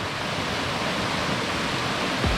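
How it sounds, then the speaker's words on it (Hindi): Water pours down Delari Waterfall in Raigarh, a loud, constant broadband roar that stays steady throughout. "ऊपर से पूरा पानी आ रहा है नीचे तक"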